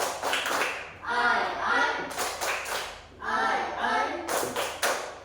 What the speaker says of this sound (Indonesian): Masya Allah, tepuk lebih semangat.